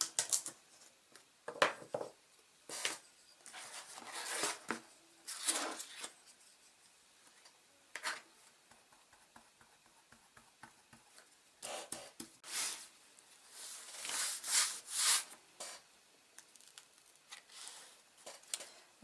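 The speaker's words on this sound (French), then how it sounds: "cette fois-ci j'y vais carrément avec un pinceau de peintre pour bien étaler de partout la colle" A painter's brush spreading glue over album pages during bookbinding, faint close scratchy swishes and bristly strokes coming in irregular bursts with quiet gaps between them.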